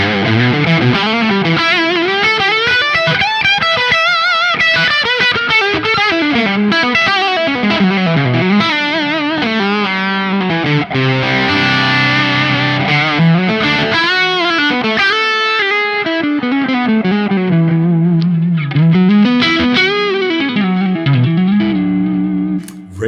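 Loud, overdriven electric guitar plays continuously through a Laney amp with its bright switch engaged, giving a bright, cutting top end and a touch of reverb; no talking.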